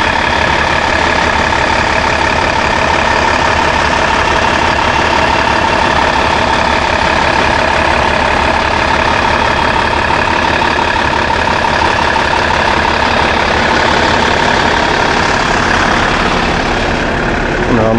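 A Cummins 6.7 liter turbo diesel idles steadily in the rear of a 2013 TEMSA TS30 coach bus, a loud, close, continuous rumble with a whining hum that holds evenly throughout without any speech.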